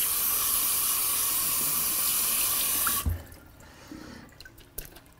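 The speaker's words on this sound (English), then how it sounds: "We'll rinse these off in the sink." Broccoli florets rinsed under a running kitchen sink tap: a steady, loud gush of water for three seconds that cuts off abruptly, followed by faint drips and small handling knocks.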